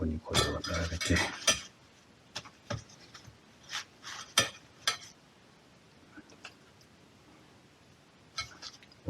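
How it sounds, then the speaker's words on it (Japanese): A metal wire rack is set down with clinks and rattles against a plate in a kitchen while fish is being readied for paella, a burst of clatter at the start followed by scattered lighter knocks. "お皿とのね、間にペタッと、魚がつかないように金網を置きました。"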